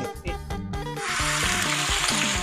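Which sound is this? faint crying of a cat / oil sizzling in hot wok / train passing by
oil sizzling in hot wok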